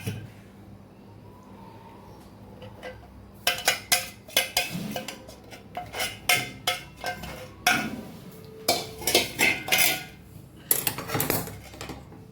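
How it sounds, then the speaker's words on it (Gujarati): Sugar syrup being added to roasted flour in a pan while making mohanthal, heard as a run of sharp metallic spoon-and-pan clinks and scrapes that start after a quiet opening and go on irregularly. "હવે આપણે ચાસણી એમાં લોટ શેકાઈ ગયેલો છે એમાં ઉમેરી દઈશું."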